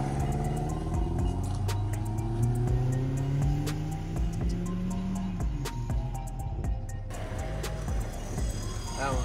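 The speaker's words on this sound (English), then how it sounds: "We have to make sure Matt has the skill to drive the RC car accurately so he can actually hit these walls." A giant radio-controlled car drives along; its motor whines and rises and falls in pitch in several sweeps, fairly close, with faint voices underneath.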